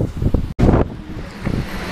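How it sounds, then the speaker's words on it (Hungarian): Strong wind buffets the microphone in loud, gusty rushes, with one brief cutout, and no voices. "Eszetlen nagy szél fúj."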